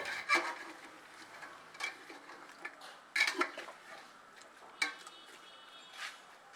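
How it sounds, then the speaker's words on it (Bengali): Mutton is stirred with ginger-garlic paste and chili masala in oil in a pot, heard as quiet, sparse scrapes and metallic clinks of a spoon against the pot, spaced a second or two apart, with no talking. "তারপরে তেলের সঙ্গে মাটনের সঙ্গে মশলাটাকে ভালো করে কষিয়ে নেওয়া হলো।"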